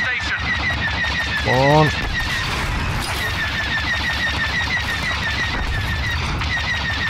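Rapid bursts of blaster fire from starfighters in a Star Wars Battlefront 2 space battle, steady repeating volleys over engine roar and music, with a brief voice speaking partway through.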